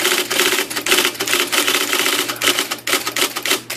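A reconditioned IBM Selectric II electric typewriter types in quick, loud, close bursts of clacking keystrokes over a low motor hum, with no voices.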